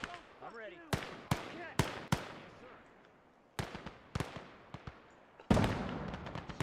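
Grenade explosions in the World War II video game Gates of Hell: Ostfront come as about a dozen sharp, punchy bangs at irregular intervals, each with a short decaying tail, over a quiet background.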